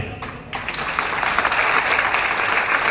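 Loud, sustained applause from an audience at an event, rising after a brief quieter start and continuing steadily as dense clapping throughout.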